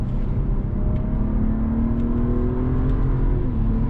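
A race car accelerates flat out on the Nürburgring, heard from inside as a loud, steady engine drone whose pitch climbs smoothly through the gears over the whole stretch.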